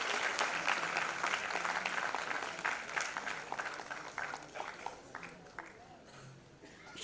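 Audience in an auditorium applauds loudly, a dense burst of clapping that slowly thins and fades toward the end.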